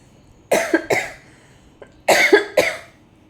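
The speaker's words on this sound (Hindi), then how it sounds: "खांसी आ रही है बीच में" Two pairs of sharp, close coughs, each pair quick and rough, separated by a short quiet gap with a faint throat sound between them.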